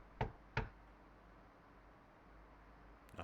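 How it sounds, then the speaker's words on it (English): Two quick hollow knocks rap on a door in the horror game Shutter Story, close and distinct against a quiet hiss, with a third faint tap trailing after a pause. "Knock."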